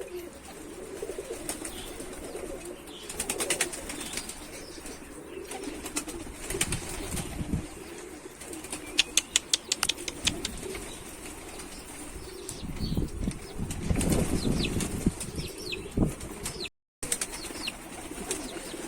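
A blue pigeon, a runaway bird, takes off from a rooftop with a quick burst of wing flapping, followed by scattered outdoor bird sounds and soft cooing.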